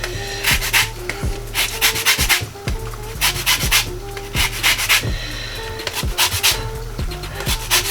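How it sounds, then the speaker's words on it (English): A lemon is zested on a grater with quick, rhythmic rasping strokes, loud and close, repeating steadily with brief pauses between bursts. "I'm just gonna zest some lemon zest in here."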